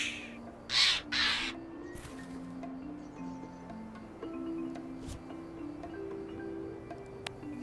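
A crow in Return to Monkey Island gives two loud, harsh caws close together, then goes quiet as soft game music carries on underneath.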